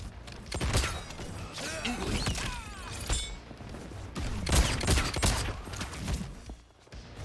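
Bursts of rapid gunfire and sharp shots from a Mortal Kombat 1 match crackle repeatedly over a busy, clattering game soundscape, with no talking.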